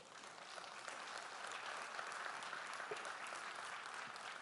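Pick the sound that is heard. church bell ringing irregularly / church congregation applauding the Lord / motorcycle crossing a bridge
church congregation applauding the Lord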